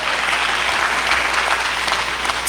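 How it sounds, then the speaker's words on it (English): An audience at a school district literacy town hall applauds steadily, a dense, even wash of clapping throughout with no speech. "Give yourselves a round of applause."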